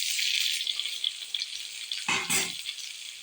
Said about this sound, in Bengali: এখন তার মধ্যে দিয়ে দেব ভেজে রাখা এই সাজনা আর আলুগুলা